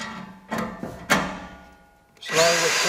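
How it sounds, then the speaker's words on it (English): A power drill slowly driving screws into a garden raised bed whirs in short, separate bursts, each starting and then easing off, before a louder, steadier run near the end. It sounds close. "So you're drilling slow with pressure."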